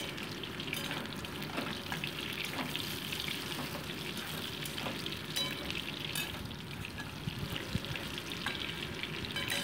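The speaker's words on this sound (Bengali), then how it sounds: "দেখো আলুগুলোকেও কিন্তু আমি ভেজে তুলে রাখছি" Potatoes fry in hot oil with a continuous close sizzle, broken by a few light scrapes and stirring clicks.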